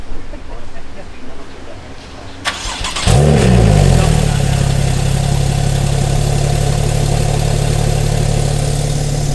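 Car engine at a supercar garage in Dubai turning over and catching, a click and starter whir followed by a loud rev that settles into a strong, steady idle, close and dominant.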